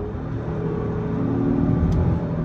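An Acura MDX SUV accelerating with the gas pedal floored, a steady engine hum and whir with road rumble that slowly builds in loudness, close and continuous with no talk.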